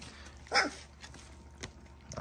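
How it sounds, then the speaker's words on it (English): A young puppy gives a single short yip-like bark, faint and brief, over quiet room background. "I hear someone barking."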